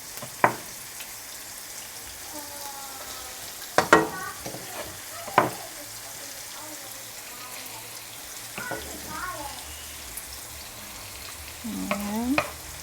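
Kimchi fried rice stir-fried in a pan, with steady sizzling and several sharp scrapes and clanks of a utensil against the pan, heard up close with no talking.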